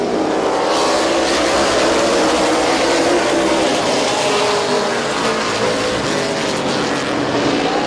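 Race cars roaring past at Midvale Speedway at a green-flag restart, a loud continuous wall of engine noise with shifting pitch as the pack accelerates, nearby and unbroken.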